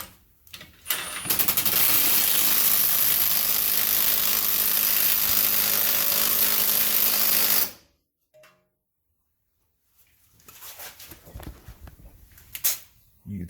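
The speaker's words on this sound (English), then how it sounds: "Crescent wrench and an impact, holding this nut with the crescent wrench." An impact wrench loosening a nut on a Ford Taurus wheel bearing, a loud sustained buzzing rattle for several seconds, then silence, followed by shorter, fainter bursts.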